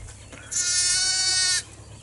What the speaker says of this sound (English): That's the little baa from the lamb.